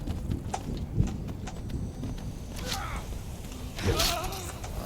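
Horse hooves clip-clopping in Skyrim, played on legendary difficulty in survival mode, a steady soft rhythm of hoofbeats under wind and ambient game sound, with no talk.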